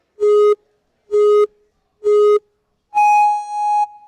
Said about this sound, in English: Your run will begin with a series of boops and a beep.